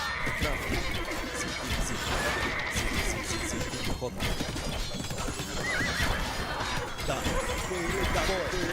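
Cavalry horses in Age of Empires II neighing and whinnying repeatedly over continuous clip-clopping hooves and clashing battle noise, with short unit voice responses spoken in the mix.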